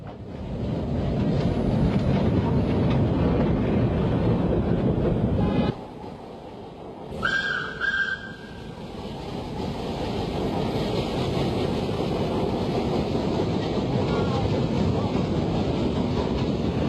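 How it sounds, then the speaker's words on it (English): A steam tram chugs through a busy Soerabaja marketplace with rickshaws nearby, a steady loud mechanical rumble and rolling noise carrying on throughout, broken briefly by a dip and a short high whistle-like squeal before the rumble builds again. "the rickshaws or jacks kept well clear as the tram chuffed importantly by"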